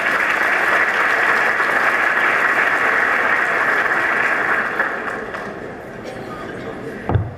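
Full, steady applause from a seated audience at an academic management seminar, holding at an even level for several seconds, then easing and thinning out toward the end.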